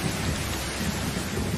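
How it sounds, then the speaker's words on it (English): A sudden thunderstorm breaks over the Amazon rainforest: steady, dense rain pours down with a low rumble of thunder, loud and continuous throughout. "Unfortunately, a sudden storm sends everyone home."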